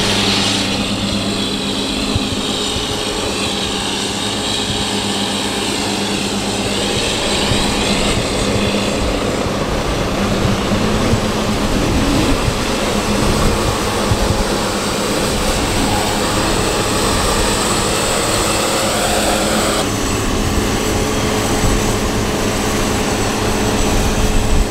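A hammer mill grinding shelled corn runs in a steady, loud, dense roar that holds for the whole stretch, with a slight change in texture partway through and no talking.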